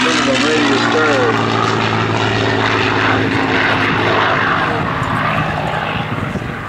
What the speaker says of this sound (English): Gotta stop talking when he comes around so that we can listen to the sound of that airplane.